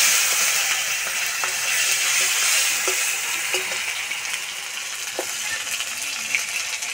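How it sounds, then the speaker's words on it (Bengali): Chopped tomatoes frying in oil in a wok, a steady bright sizzle that stays loud and close throughout, with a few faint clicks and scrapes from stirring. "তেলে দেবো টমেটো কুচি"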